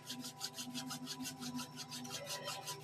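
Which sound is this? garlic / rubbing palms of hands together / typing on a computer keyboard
rubbing palms of hands together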